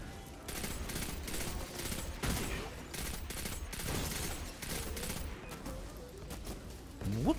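Rapid bursts of gunfire from the Destiny 2 video game rattle continuously and loudly, with short pauses between volleys and a voice speaking over them.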